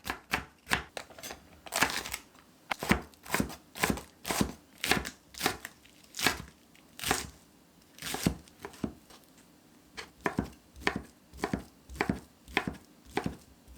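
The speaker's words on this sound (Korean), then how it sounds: "당근, 대파, 슬라이스 햄 썰어줍니다" Knife chopping carrot, green onion and sliced ham on a cutting board, a steady series of crisp, close cuts in quick bursts with short pauses, no talking.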